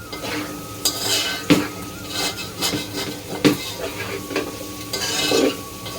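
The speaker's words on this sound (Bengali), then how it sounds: "চলো এবারে পনিরটাকে ভালো করে ভেজে নিই" Paneer lightly frying in a pan during home cooking for a large crowd, with a soft sizzle under repeated clinks and scrapes of a spatula stirring against the metal, a few sharper knocks standing out.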